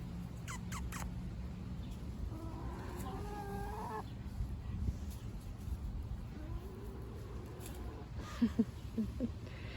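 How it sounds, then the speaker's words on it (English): Chickens cluck and make soft, drawn-out calls nearby, quiet and intermittent, with a few short higher peeps near the end. "Nothing goes to waste when you have chickens"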